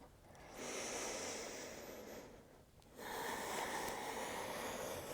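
Two long, soft breaths during a yoga class, each a gentle hissing inhale or exhale lasting a couple of seconds, heard close and quiet with a brief pause between them.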